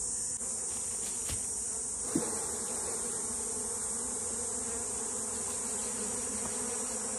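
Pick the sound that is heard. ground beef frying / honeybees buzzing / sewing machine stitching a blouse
honeybees buzzing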